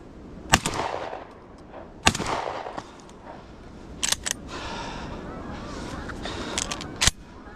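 Shotguns fire during a goose and duck hunt outdoors: a few sharp, spaced blasts over wind and rustling, some louder and near, with voices faintly in the background.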